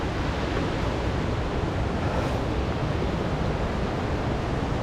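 A waterfall creek on a Blue Mountains canyon track flows with strong force, a dense, steady roar of rushing water filling the scene without a break and with no voices.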